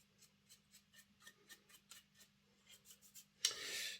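Soft, quick rhythmic bristle strokes as a brush dusts a Jouef Class 40 model train body, faint and close, ending in a louder burst of rustling.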